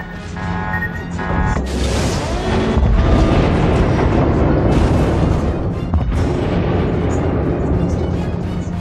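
Torpedoes strike a warship in the World of Warships video game, a loud sustained rumble of heavy blasts with bursting booms and crackling debris layered over game noise.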